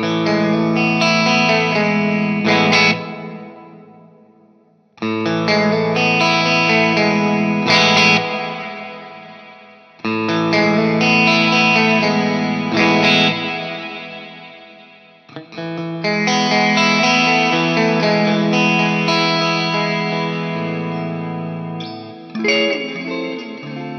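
Strymon Cloudburst ambient reverb pedal on a sustained, chorded instrument, its tone control swept between extremes, giving four loud washes of shimmering reverb that swell and decay, each fading before the next, with a brief tail at the end.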